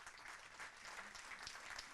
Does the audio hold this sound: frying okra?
no